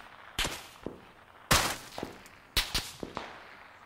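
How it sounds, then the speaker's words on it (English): Gunfire in an online shooter game is aimed at the player, with sharp shots landing in three loud bursts, each with a quick follow-up crack, spread over a few seconds and no talking. "I'm getting shot from my right somewhere."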